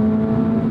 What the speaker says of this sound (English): Playing with the throttle a little bit just so you can hear those different tones.